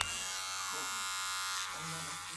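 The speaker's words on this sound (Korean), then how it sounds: "방 쪽에서 면도기 소리가 들리자 발딱 일어섭니다." Electric shaver buzzing in another room of a home, a steady harmonic drone running throughout with faint voices and household sounds over it.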